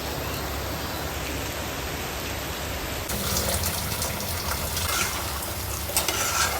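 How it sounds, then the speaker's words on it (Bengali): Steady rain hissing down in Dhaka, growing heavier and denser halfway through, with scattered louder drops spattering close by. "ওই বৃষ্টি এসে গেল আবার"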